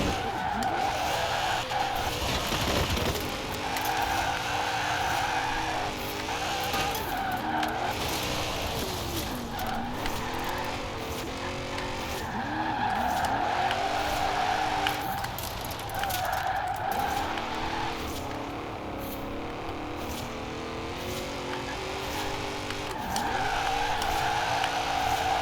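Lexus IS F with an A800 engine making close to 1300hp, rear-wheel drive and drift-tuned, held in top gear while its tires squeal continuously under a loud engine drone, the pitch sweeping up and down in repeated waves.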